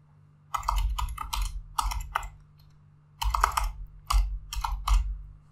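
Fingers tap out a file name on a computer keyboard in two quick bursts of close, clicky keystrokes separated by a short pause, over a faint steady hum.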